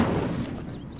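Incendio fire spell cast in Hogwarts Legacy, a brief loud whooshing burst of flame with a rumbling low end that fades out over about a second.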